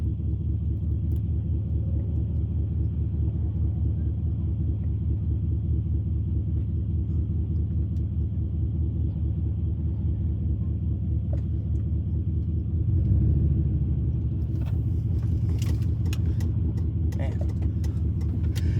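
Steady low engine rumble inside a car on the move, continuous and fairly loud throughout, swelling briefly near the end, with a voice talking at times over the drone.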